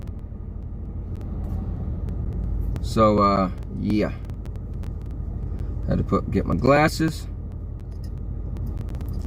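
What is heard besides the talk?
car interior driving rumble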